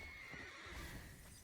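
A short, quiet horse neigh with clip-clopping hooves plays as the Ostrich Horse card's sound effect in the Magic The Gathering Arena video game: a single whinny rising and falling over about a second and a half.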